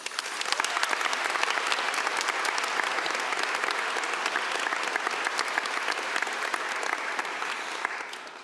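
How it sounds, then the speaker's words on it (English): A conference audience at the EuroPython 2025 closing applauds the communications team, with dense, even clapping from a large crowd that holds steady for several seconds and then starts to fade. "So a round of applause for the comms team."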